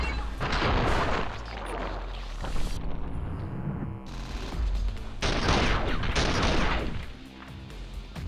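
Rapid gun kata gunfire rattles in the video game The Matrix: Path of Neo, dense bursts of loud shots and booms stacked close together, briefly thinning mid-way before another heavy volley.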